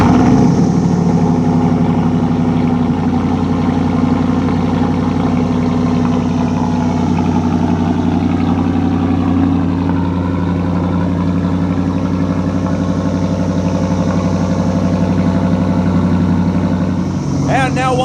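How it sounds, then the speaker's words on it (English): A 2019 Ram Rebel pickup fitted with a Borla exhaust idling after a cold start, a loud, steady low rumble that holds unbroken for the whole stretch, with a brief shift at the very end. "let's do our last cold start with the Borla on our Ram Rebel"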